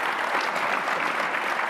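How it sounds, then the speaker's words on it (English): A conference audience applauds a panel on clean aerospace decarbonization with a short, steady burst of clapping from a moderate crowd, heard close and on its own. "ladies and gentlemen, if I could ask for your applause"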